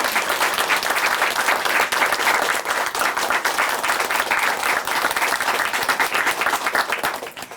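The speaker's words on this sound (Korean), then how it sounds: "다시 한번 큰 박수 보내드릴게요." A studio audience at a Korean Christian television program gives sustained, loud applause, a dense wash of many hands clapping that stays steady before tapering slightly at the end.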